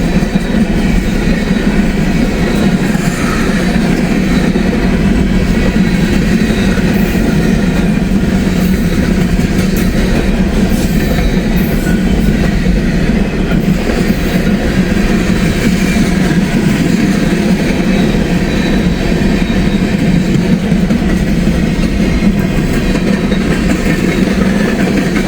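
A freight train rolls steadily past on the B&O line, a loud, continuous rumble and rattle of railcars close by that lasts throughout without any voices.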